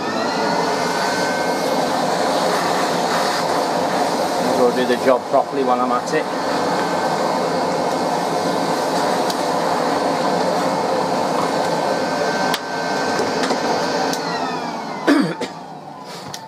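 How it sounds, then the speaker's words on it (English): A vacuum cleaner runs loud and continuous, close by, while a Hoover Senior 652 upright is cleaned out during servicing; someone talks over the steady drone. "Get the vacuum."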